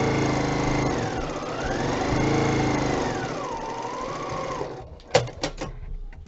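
A sewing machine chain-piecing quilt block pieces runs continuously with a whirring motor hum whose pitch rises and falls as speed changes, then stops and gives way to a few sharp clicks and handling noises.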